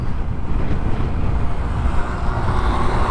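Steady wind roar and low engine rumble while riding a Yamaha Aerox 155 scooter, loud and continuous throughout, with no distinct voices.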